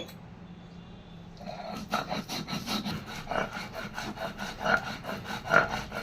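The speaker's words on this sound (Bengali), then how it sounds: "পোস্তটা একটু জল দিয়ে খুব সুন্দরভাবে বেটে নিব" Poppy seeds with a little water are ground on a flat grinding stone, a rhythmic scraping and rubbing that starts after a quiet moment and repeats in steady back-and-forth strokes, close and fairly loud.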